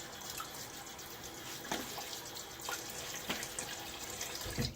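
Tap water runs steadily into a sink while shaving lather is prepared with a boar brush and Williams soap: a constant close hiss, with a few brief splashes and drips standing out.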